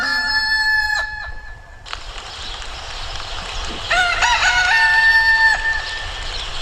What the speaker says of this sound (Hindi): जो ही मुर्गा बांग लगाई